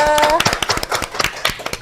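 An audience claps for a Kosgoro business guest on an Indonesian campus talk show, a quick burst of close, uneven hand claps with talk running over it.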